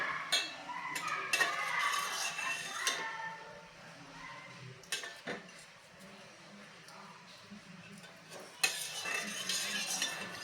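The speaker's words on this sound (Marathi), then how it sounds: "रवा घालताना सतत ढवळून घ्यायचा आहे नाहीतर त्या रव्याच्या गुठळ्या होतात" Semolina stirred into milk in a metal pot for rava kheer, with a spoon scraping and clinking against the pot in irregular bursts, close but quiet.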